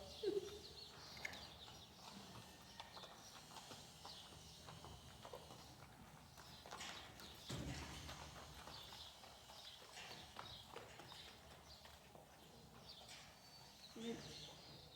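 A horse trotting during a riding lesson in an arena, with soft, faint rhythmic hoofbeats over low background noise, birds, and an instructor talking.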